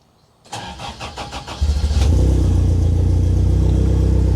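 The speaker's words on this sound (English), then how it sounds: "Start the car." A turbocharged Toyota Trueno cranks over in a rapid stutter of starter pulses, then catches and fires into a loud, steady idle close by.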